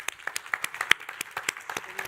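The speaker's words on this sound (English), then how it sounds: "How about a round of applause?" Sparse, distinct handclaps from a small forum audience, irregular and moderately close, with no talk.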